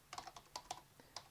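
Soft, quick keystrokes on a computer keyboard as a Linux command is entered, a brief burst of light irregular clicks, faint and close with no talking.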